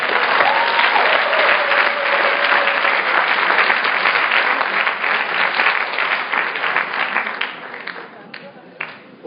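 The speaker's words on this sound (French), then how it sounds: "Ou 5 secondes pour les applaudir bien fort." Loud, sustained applause from a large audience at a startup pitch event fills the room, steady throughout, then thins out toward the end as a voice begins.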